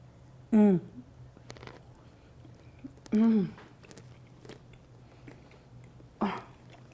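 Someone bites into and chews a Samoa Girl Scout cookie, caramel and chocolate over a crunchy base. Three short, loud crunchy bites arrive a few seconds apart over a low background hum, with soft chewing between them.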